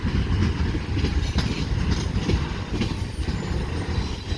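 A CSX mixed freight train with an old Conrail locomotive rolls past at Fostoria, Ohio, a loud, steady rumble of wheels and cars with faint clickety-clack, close and continuous throughout.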